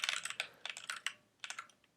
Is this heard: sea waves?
no